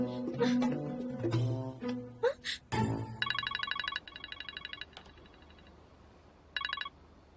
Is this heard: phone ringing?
yes